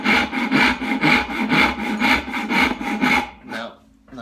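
A Veritas dovetail hand saw cuts through wood in a quick, regular rhythm of about seven rasping back-and-forth strokes, loud and close, before stopping abruptly with a brief scrape.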